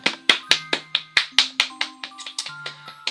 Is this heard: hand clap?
yes